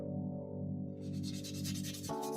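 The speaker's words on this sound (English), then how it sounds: "First, we use coarse sandpaper to remove the marks made by the knife." Coarse sandpaper rubs over a hand-carved netsuke to smooth away knife marks, making quick, rhythmic rasping strokes over a steady background hum.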